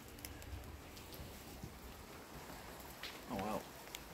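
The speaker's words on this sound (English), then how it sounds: "You can probably hear the rain, it's just dripping and running down drains." Steady light rain patters and drips outdoors, running down drains, with a faint bird chirp briefly cutting through near the end.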